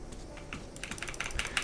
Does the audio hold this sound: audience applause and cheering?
no